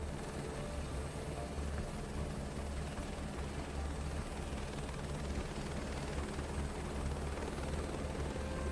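A helicopter coming in to land in Microsoft Flight Simulator 2024, its rotor and turbine making a steady, dense, loud drone that holds unchanged throughout, with no voices over it.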